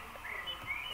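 Sparrow in the horse-riding game Star Stable gives short, faint high chirps over a soft ambient background, brief and alone without speech.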